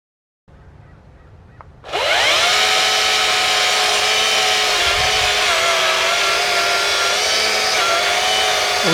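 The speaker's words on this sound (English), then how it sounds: "buying the 28-inch Optimus Greenworks chainsaw" After a quiet start, a Greenworks Optimus 28-inch battery chainsaw whirs to life at close range and runs loud and steady, its high whine holding as it cuts through wood.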